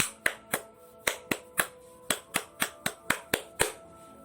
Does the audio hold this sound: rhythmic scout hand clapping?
yes